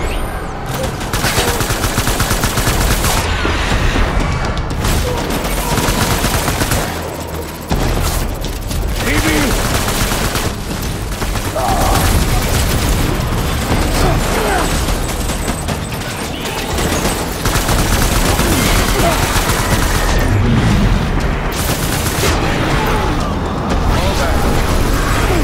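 Sustained gunfire and bursts of automatic weapons during a boss fight in the video game Death Stranding, loud and dense throughout with booms mixed in and shouted commands over the shooting.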